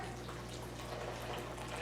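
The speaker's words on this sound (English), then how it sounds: "pour in the boiling water." Boiling water pours into a container of sugar and black tea for brewing kombucha, a steady, soft splashing stream with a low hum underneath.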